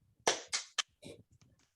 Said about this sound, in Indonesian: Boleh kita apresiasi dengan tepuk tangan?